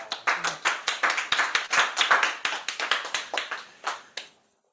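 An audience claps hands for a few seconds at a community session, a dense run of sharp, close claps that thins out and stops abruptly.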